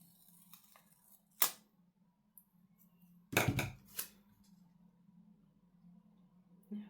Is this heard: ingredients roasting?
no